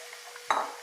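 Mango curry made with yogurt gets stirred in a pot, giving one short, close scrape and swish that rises suddenly and then fades over a low, steady background.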